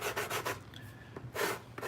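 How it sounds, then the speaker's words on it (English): Finish sanding on a Mandalorian helmet build gives repeated rhythmic rubbing strokes, close and soft, in quick bursts with a short pause in the middle. "you still got to do some finish sanding on your own"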